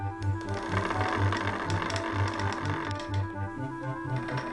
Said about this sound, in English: You then stretch the slivers into yarn on a spinning wheel.